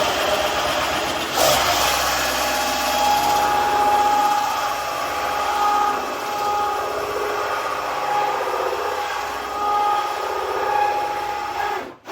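A power drill whirs steadily in reverse, cutting a hole in a hydroponic setup. The motor drones at a close, even pitch for about twelve seconds, wavering slightly, with no speech.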